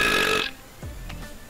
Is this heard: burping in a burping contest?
yes